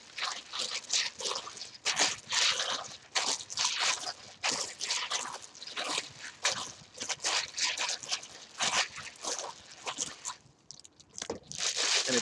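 Liquid ice cream mixture pours into a jar or bag, a run of irregular splashy, dribbling bursts with occasional crunchy clatter, fairly close and unaccompanied by talk.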